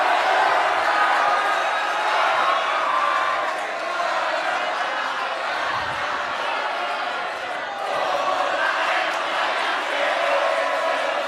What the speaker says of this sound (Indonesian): boleh mana teriakannya, tepuk tangannya, boleh yel-yelnya